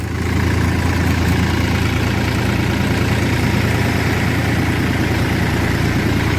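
A Ford 3600 or Massey 245 farm tractor's diesel engine idles close by, a steady, deep, loud rumble with constant vibration and no break throughout.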